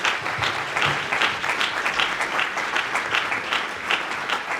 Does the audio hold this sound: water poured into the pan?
no